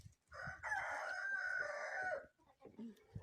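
A farmyard rooster crows once in a long, loud call close by, with a few quieter clucks and rustles from other fowl in the pen afterward.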